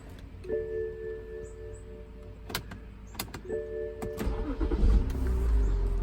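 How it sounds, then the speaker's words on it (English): BMW X5 engine cranking and catching after a fuel-gauge sending unit fault, preceded by steady electrical whine and a few sharp clicks, then a low rumbling idle rising near the end. "Let's go ahead and give it a start"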